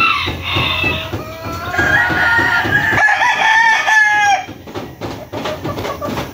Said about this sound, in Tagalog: mga tandang natin